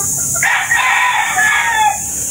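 A gamecock at a game farm crows once, loud and close, a long drawn-out call over steady outdoor background noise, with no talking.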